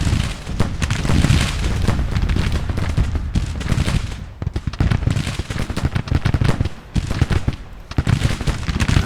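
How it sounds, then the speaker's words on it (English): Artillery in the Grand Tactician: The Civil War game booms continuously, dense overlapping cannon and musket fire rumbling loud and steady with brief lulls. "Artillery is firing, alright."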